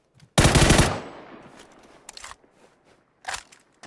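A loud burst of rapid automatic gunfire from a video game, a dense volley lasting about half a second, followed by a few scattered sharp shots and clicks.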